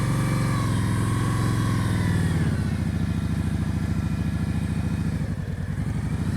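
A motorcycle climbs an uphill slope at slow speed during an advanced slow-speed riding practice session in Georgia, its engine chugging steadily and close by with a loud, even rhythmic pulse throughout.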